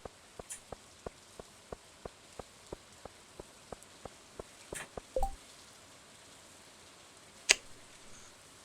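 Rain falls softly in the farming game Stardew Valley, a steady pattering with regular light ticks at an even pace and a couple of brighter taps near the end, low and quiet throughout with no voices.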